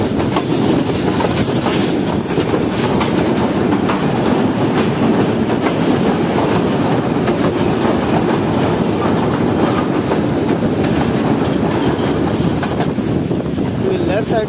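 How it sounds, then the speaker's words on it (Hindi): Shah Hussain Express running toward a junction station after a sharp curve, with steady rolling rumble and clickety-clack of wheels on rail joints throughout, loud and continuous from on board. "शार्प कर्व लेने के बाद हमारी ट्रेन एंटर हो जाएगी शाहतराबाग जंक्शन रेलवे स्टेशन पर।"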